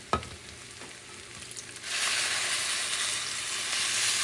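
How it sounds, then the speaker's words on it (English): Bean broth is poured into a pot of rice and red beans, and after a faint clink a loud, steady sizzling hiss rises and holds close by, with no talk. "Now I'm going to add the liquid or the bean broth."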